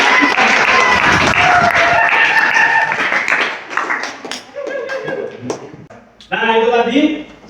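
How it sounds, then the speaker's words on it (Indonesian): Schoolchildren in a classroom clap together, a burst of loud, close hand claps that thins into scattered taps and light laughter, then a short final flurry of clapping. "Tepuk tangan tuh yuk."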